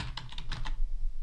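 Quick bursts of typing on a computer keyboard while coding ABAP, several close keystrokes clustered in the first moments, then a low steady background with no further clicks.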